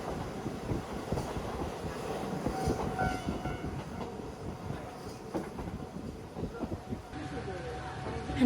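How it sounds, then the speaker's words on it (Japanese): A Hanasaki Line train pulling into Nemuro terminal station in eastern Hokkaido, Japan: steady rumbling rolling noise with faint wheel clatter as it slows, a voice talking over it. "花咲線終点根室駅に到着です"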